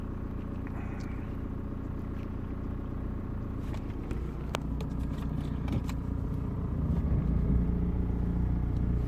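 An Audi A4 2.0 TDI diesel engine idles nearby with a steady low rumble and clatter, growing slightly louder later, mixed with scattered clicks and knocks.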